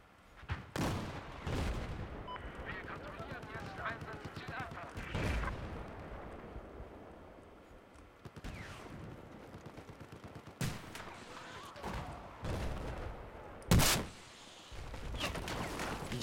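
Rocket launch and loud explosions in Battlefield 4 multiplayer, a series of sharp booming blasts and gunfire bursts spread through the stretch, near and heavy, with a hard detonation late on, under a busy battlefield din.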